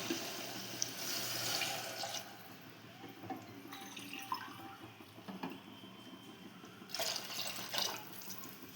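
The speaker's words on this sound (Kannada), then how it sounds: "ಅದಕ್ಕೆ ಎರಡು ಗ್ಲಾಸ್ ನೀರು ಹಾಕ್ತೀನಿ ರೀ" Two glasses of water pour into a cooking pot in a few bursts, splashing and gurgling close by, with quieter pauses between pours.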